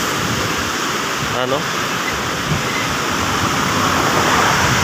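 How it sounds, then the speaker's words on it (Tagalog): Strong surf crashing on the Guimbal shoreline, a steady loud roar of breaking waves filling the whole clip, with a brief spoken word over it. "So napakalakas ng alon."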